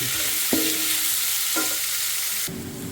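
Onions stir-fried in hot oil in a pan with garlic paste, a constant loud sizzle broken by a few spatula knocks, the hiss easing slightly near the end.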